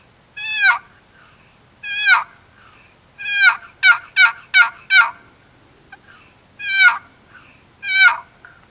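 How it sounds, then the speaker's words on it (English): Wooden turkey box call worked by sliding the lid across it, producing a two-tone yelp in loud, clear series: single yelps, then a quick run of five, then two more, close with no other sound. "Usually, most box calls are going to give you two different sounds."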